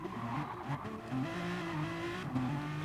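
Cars racing in GT Sport at Barcelona, with a steady engine drone and a thin tire squeal under braking as one car hits another, all at moderate, even loudness.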